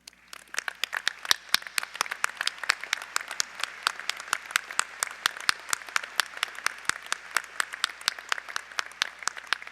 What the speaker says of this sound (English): join me by honoring them with your applause